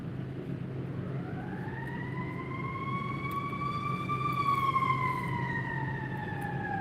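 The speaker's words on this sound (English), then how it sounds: "you gotta go with the sirens" A wailing siren rises and holds steady, sweeping pitch slowly over constant traffic rumble, moderately close and continuous throughout.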